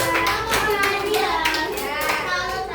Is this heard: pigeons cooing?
no